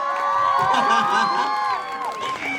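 A school crowd at a junior high co-curricular event cheers and shouts for a guest star, with overlapping high-pitched voices and whoops sustained throughout and little distinct clapping.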